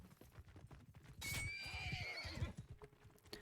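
A horse in a competitive video game lets out a loud, shrill neigh that rises and trembles over several seconds, with steady clip-clopping hooves before and after and faint background noise.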